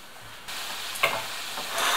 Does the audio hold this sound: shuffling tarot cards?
no